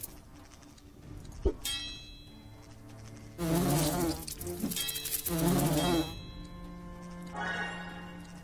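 Green wasps buzz in the fantasy role-playing game Lords of Xulima, with two loud insect-like buzzing bursts in the middle and a fainter one near the end, over quiet game ambience.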